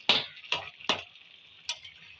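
Vegetables being stirred in a very full wok for a Bengali fish curry with bottle gourd, Malabar spinach and lentil dumplings: three quick close scraping strokes in a row, then a short pause and a fourth lighter stroke.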